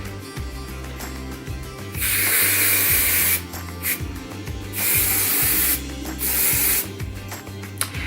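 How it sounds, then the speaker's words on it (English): Hairspray is sprayed along freshly done Dutch braids in several short, loud hissing bursts, close up, separated by pauses with low background hum. "what I do at the end is I usually put some hairspray in my hair, just along the braids"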